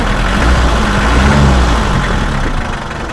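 A Mitsubishi L300 diesel engine idles loud and close after a restart, a steady low rumbling clatter that eases slightly at the end, with no talking.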